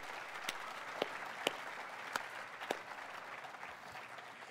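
An audience at the 2019 UNM School of Law hooding ceremony applauds members of the judiciary; sparse, faint clapping with a few sharper, closer claps standing out over a soft background of hands.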